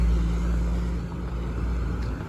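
Car driving past on a road with a poor catalytic converter, a steady loud low engine and exhaust rumble holding throughout, no voices.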